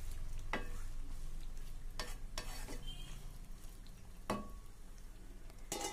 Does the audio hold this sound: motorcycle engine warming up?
no